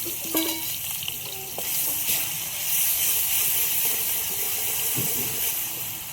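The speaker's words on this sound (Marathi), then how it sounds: "आता टाकू आपण तो कांदा जो खिसला ना तो टाकून घेऊ, परतून घेऊ." Grated onion frying in hot oil with bay leaf in a home kitchen, a steady loud sizzle and hiss throughout with occasional stirring scrapes, close up and without talk.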